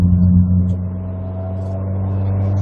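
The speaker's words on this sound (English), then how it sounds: "With this exhaust on it as well, which sounds good, we fling it into these corners using this 5-speed Honda-derived PG1 gearbox." A 1999 Rover 200 BRM, 1.8 petrol with a five-speed PG1 gearbox and aftermarket exhaust, droning steadily while cornering, a low, even engine hum heard from inside the car.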